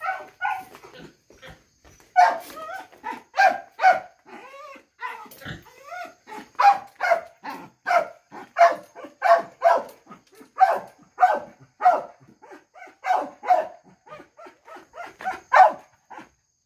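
A hunting dog used for deer and fox barks repeatedly at close range, a long run of sharp, evenly spaced barks mixed with yips and whimpers, loud and steady with no talk.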